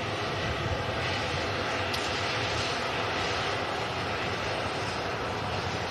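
A Ryanair Boeing 737 airliner departs Manchester bound for Dublin, its jet engines a broad steady roar at a distance, mixed with gusty wind.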